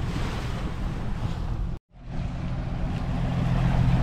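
A new Yamaha VMAX SHO 200 outboard motor runs during break-in on a boat, its steady loud drone mixed with wind and water rush, cut by a brief dropout before resuming.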